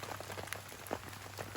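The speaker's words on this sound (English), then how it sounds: "I love camping in the rain" Rain falls on a tarp at a lakeside campsite, a close, steady patter of irregular drops over a low constant hum.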